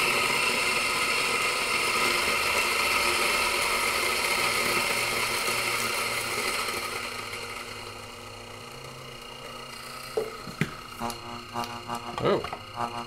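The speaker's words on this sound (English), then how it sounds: "Let's grind this to a pulp." Specialita coffee grinder grinding beans, a loud steady motor whir that winds down after several seconds, followed by scattered clicks and knocks.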